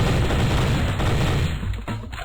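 Dense, loud gunfire from the Flash shooting game Bush Shoot-Out, a constant roar of overlapping shots and booms that fills the whole short stretch and eases slightly near the end.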